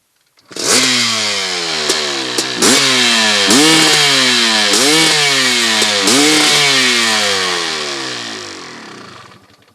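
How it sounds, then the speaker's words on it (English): Honda two-stroke motocross bike engine revved hard and close, a loud, raspy, buzzing wail that repeatedly climbs and drops in pitch over several blips before easing off, with no talk. "Let's hear the two-stroke."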